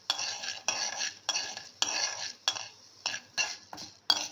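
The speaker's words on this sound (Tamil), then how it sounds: "வச்சு கொஞ்சம் கலர் கொஞ்சம் கலக்கிற மாதிரி வறுத்து எடுத்துக்கலாம்." Urad dal being stirred and roasted in a pan, eight or so rhythmic scraping strokes in quick succession, each a crisp gritty sweep, close and clear with no talking.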